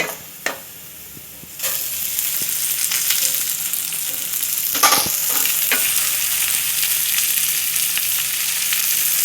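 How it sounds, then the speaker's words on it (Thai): Raw washed rice tipped into a pan with fried garlic and stir-fried over high heat for chicken rice, a soft clatter followed by a steady loud sizzle with scraping stirs and occasional clinks. "เสร็จแล้วเดี๋ยวเราเอา ข้าวนะครับ ที่เราซาวไว้ ทำความสะอาดแล้วลงไปผัดเลยครับ"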